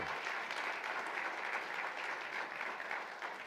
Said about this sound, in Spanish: Levántale un aplauso al Señor.